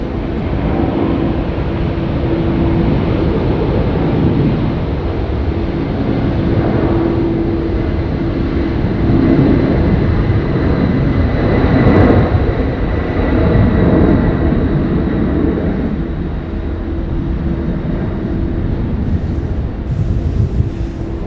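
A Singapore Airlines jet, flight 232, departs Sydney Airport from runway 16 right, heard as a long, loud, broad engine roar that swells near the middle and then eases off while wind buffets the microphone.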